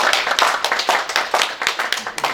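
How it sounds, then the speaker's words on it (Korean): A church congregation at an anniversary worship service claps in quick, rhythmic bursts, loud and close, with some voices audible beneath the clapping. "우리 모두를 위해서 우리 축복의 박수 한번 보내겠습니다."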